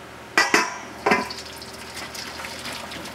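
Jollof rice is emptied from a pot into a bowl, with a few sharp metallic knocks and scrapes of pot against bowl followed by softer shuffling and pouring sounds, close by and with no voices.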